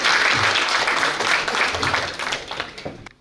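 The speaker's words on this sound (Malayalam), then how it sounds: "നല്ലൊരു കൈയടി കൊടുക്കാം" An audience at a Kerala Samajam family night gives a loud, dense round of applause that runs steadily and then thins out toward the end.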